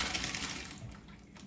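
Cooked elbow macaroni is poured out into a kitchen sink, giving a brief, close rush of splashing water and pasta that starts loud and tapers off over about a second and a half.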